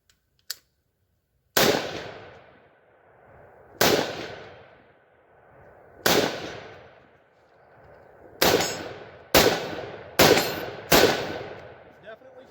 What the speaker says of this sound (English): let's take a few shots here between the rifle range and then some of the steel over on the pistol range